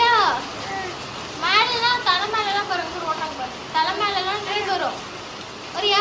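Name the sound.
rain falling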